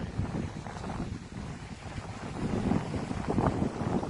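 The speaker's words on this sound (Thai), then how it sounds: "ลมค่อนข้างแรงทีเดียว" Strong wind at Chao Mai beach in Trang's national park, a steady broadband rush buffeting the microphone, with the gusts growing louder toward the end. No one speaks.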